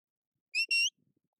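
Two short, high-pitched sheepdog walk-on whistle blasts in quick succession, the second slightly longer, sounding clear and alone against silence.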